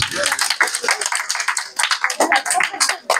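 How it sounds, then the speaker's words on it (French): A small gathering at a Quran recitation event in Nice claps for a child, a close, uneven patter of individual handclaps from a few people, loud and continuous throughout. "Applaudissez."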